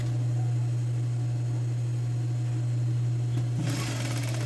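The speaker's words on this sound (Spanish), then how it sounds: "voy a pasar un pespunte sobre el sesgo" A sewing machine runs a steady, continuous topstitch along the bias binding on the edge of a blouse collar, a constant motor hum with no talk, changing slightly in tone near the end.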